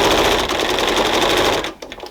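A sewing machine stitching navy binding onto a quilt, a loud steady mechanical whir with fast rhythmic needle clatter up close, stopping abruptly near the end.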